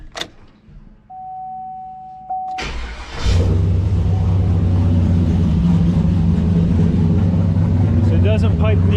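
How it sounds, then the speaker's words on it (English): An old turbocharged GMC truck cranks over and fires, settling into a steady, loud, muffled idle close by after a brief quiet stretch with a faint whine. "Now we're going to go ahead and fire this truck up."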